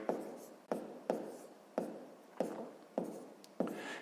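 Pen writing out a sixth-grade math calculation converting a percentage on paper: six evenly spaced strokes or taps, close and quiet, each fading quickly, with no voices.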